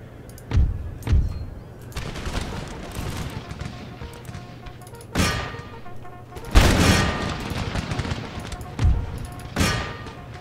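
Artillery and musket fire from a battle in Empire: Total War, with repeated booming cannon blasts and crackling volleys of gunfire spread across the span, some loud and close, over a steady background rumble.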